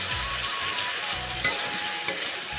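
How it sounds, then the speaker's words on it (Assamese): Meat and potatoes with ginger and garlic frying in hot oil, a steady close sizzle with a couple of brief sharp clinks from stirring. "আদা নহৰু দি আলু আৰু মাংসখিনি একেলগ কৰি অলপ সময় আকৌ ভাজি ল'ম"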